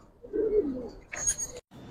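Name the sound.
Giribaz pigeons cooing in a loft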